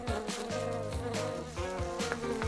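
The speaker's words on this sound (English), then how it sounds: "Ah, bees are here. They're buzzing." Bees buzzing in a steady insect drone that rises and falls, close to the microphone and with no talking.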